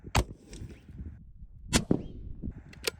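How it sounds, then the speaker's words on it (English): A 7mm WSM rifle fires at a high target outdoors, giving sharp, loud cracks with brief ringing decay, about three separate reports spaced over a few seconds. "We're gonna shoot the high target now"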